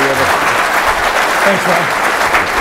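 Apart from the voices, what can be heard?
audience applause for guests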